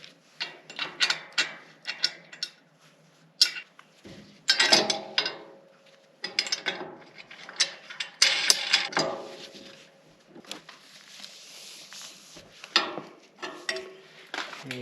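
Washers and nylock nuts being fitted and tightened while assembling a Gorilla utility cart, a close run of sharp metallic clicks, ratcheting ticks and brief knocks in uneven bursts separated by quiet gaps, with no talk.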